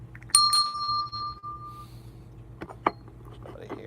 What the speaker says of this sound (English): And we got the coffee bell.